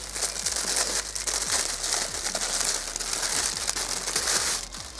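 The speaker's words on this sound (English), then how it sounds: "The packaging is like super crinkly." Crinkly plastic packaging from a clothing order being crumpled and handled up close, a continuous loud crackling rustle with irregular bursts, no talk.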